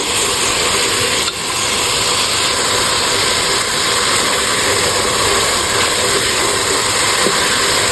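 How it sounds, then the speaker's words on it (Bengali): A grinder whirs loudly and continuously as it grinds half a kilo of lightly roasted cumin seeds, a dense, steady motor roar with a brief dip near the start and no talking. "আধা কেজি জিরা একটু হালকা ভেজে এখন এটা গুঁড়া করে রেখে দেবো ইনশাল্লাহ"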